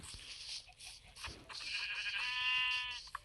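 A single sheep in Minecraft bleats in a short, wavering cry, faint and a little synthetic-sounding, preceded by soft rustling noises.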